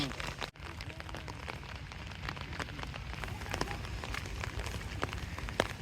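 Steady rain falls over a village on a morning, a dense even patter on surfaces that goes on without pause, with occasional louder drips close to the microphone.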